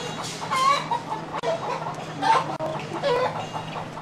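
Chickens clucking inside a crowded chicken house in a city neighbourhood, a near, continuous chorus of overlapping clucks and squawks.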